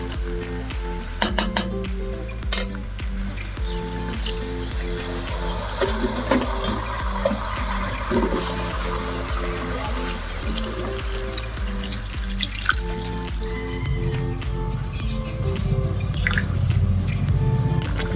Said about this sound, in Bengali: এই সময় পরিমাণ মতো জল দিয়ে নিচ্ছে